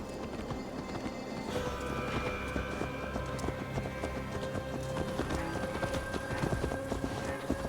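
Horse hooves clip-clop steadily in Assassin's Creed Valhalla, a continuous walking rhythm over game ambience and music, with a brief whinny.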